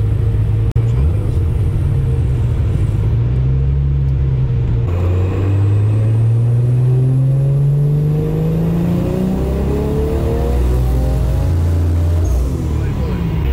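Nissan 200SX S14a with a 1.5JZ engine on a dyno during a tuning run, the engine loud and continuous as revs climb steadily in a long rising pull, with a brief dip partway, under faint voices.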